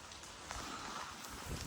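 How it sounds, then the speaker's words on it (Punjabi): A soft, steady hiss of rain falling, a continuous textured patter without any clear pauses. "ਬਰਸਾਤ ਪੈ ਰਹੀ ਥੱਲੇ ਆ ਦੇਖੋ"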